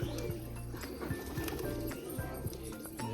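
Rajshahi pigeons near their cage give soft, low, repeated coos, fairly quiet, with small rustles and taps around them.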